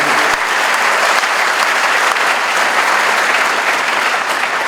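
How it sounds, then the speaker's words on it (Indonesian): Steady, loud applause from a seminar audience at a polytechnic anniversary event fills the whole moment, with dense, even clapping and no pauses. "Makanya mari kita beri aplaus untuk beliau."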